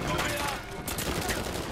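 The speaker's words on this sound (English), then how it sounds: "Blind fire!" Rapid blind-fire gunfire in the video game Uncharted 4, a dense steady burst of shots close up filling the short moment, with a voice talking over it.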